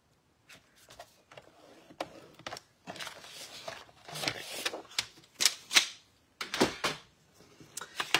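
Sharp, irregular clicks and scrapes as a scoring tool is run across cardstock for a cash card, close and fairly quiet, with short pauses between bursts.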